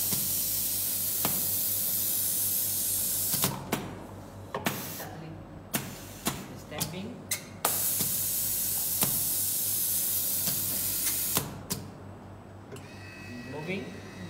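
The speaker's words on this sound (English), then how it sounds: "Can you hear the air pressure? That one is the pneumatic air pressure." Steady loud hiss of pressurized air from a pneumatic system on a Bosch mMS4.0 modular mechatronics system fills the space, broken by sharp bursts and clicks of escaping air, with machinery clatter and a voice talking underneath.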